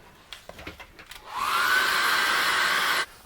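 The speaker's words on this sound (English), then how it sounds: "I'm going to get the hairdryer on that now." A hairdryer drying acrylic paint: a few faint taps and knocks, then a loud, steady blowing whir that runs for about a second and a half before cutting off sharply.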